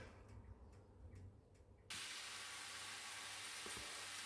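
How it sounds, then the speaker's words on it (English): Chopped onion hits hot olive oil in a pan for a no-flour vegetable bake, bursting into a loud, steady, close sizzle that holds on after a quieter start. "we are now cooking with the onion and 1 tablespoon of olive oil"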